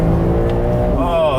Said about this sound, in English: Full on the throttle again, and it works very easy.